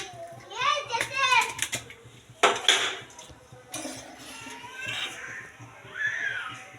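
Metal kadai pan clattering on a kitchen stove at the start of cooking chicken gongura curry, with several clanks and scrapes in bursts and a voice talking nearby.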